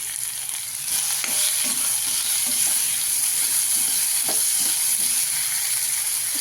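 Potatoes sautéing in butter in a pan for a Marathi-style potato bhaji, a steady loud sizzle and frying hiss with occasional stirring scrapes, close up.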